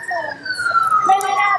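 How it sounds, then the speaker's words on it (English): Police sirens wail in Oxford Circus in London during a protest, a loud, close pitch-sweeping tone that holds and shifts steadily through the moment, with a siren layer overlapping near the end. "I can hear sirens."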